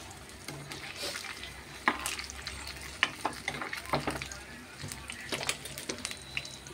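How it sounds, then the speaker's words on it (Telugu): Semolina fritters (rava bajji) fry in hot oil with a steady soft sizzle, broken by clinks and scrapes of a utensil as batter is dropped and stirred in a home kitchen. "నేను ఏం చేస్తున్నానంటే రవ్వ బజ్జీ వేస్తున్నాను"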